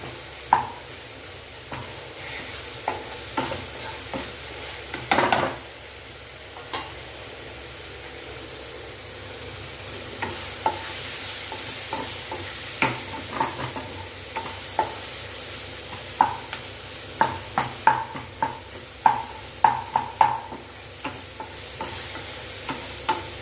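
Onion, tomato and capsicum sauté in a pan with a soft continuous sizzle, while a spoon scrapes and taps the pan in frequent close clinks during stirring, with no talking.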